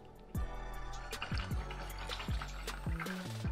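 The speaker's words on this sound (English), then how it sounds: "So rinse out your brush." A paintbrush is rinsed in a cup of water while mixing paints: steady liquid swishing with repeated tapping knocks and watery bubbling, close by and moderately quiet, with no voices.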